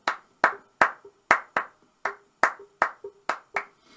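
Hands clap a steady even beat, about ten sharp claps spaced roughly every half second, close and clear with a faint ringing tone between some claps, part of an African-Latin rhythm activity at a memory café gathering.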